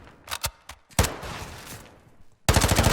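Submachine gun fire rattles through a competitive esports video game match between Atlanta Faze and Seattle Surge: several short crackling bursts, a longer spray, then a dense rapid volley at the end, loud and near.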